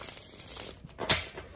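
Tarot cards are shuffled by hand, giving soft papery riffles and crinkles with one brief sharper flick, close and faint.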